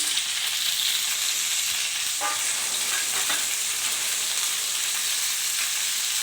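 Chicken pieces and fried onions roasting in hot oil in a pan for a desi-style chicken fry, a loud, continuous close sizzle broken by a few scraping stirs, with no voices.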